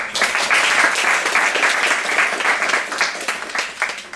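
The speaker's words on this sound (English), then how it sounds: "give a warm applause" Warm audience applause at a morning research ethics talk, a dense steady wash of many hands clapping throughout, moderately loud and close, with no talking over it.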